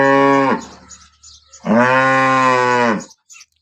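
Close up, a cow at a cattle market lets out two loud, full moos in quick succession, separated by a short pause, with no talking.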